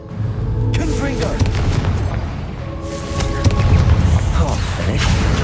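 A Confringo blast spell erupts in the video game Hogwarts Legacy, giving heavy booming explosions with crackling bursts over a steady rumbling game soundtrack, with a voice heard faintly.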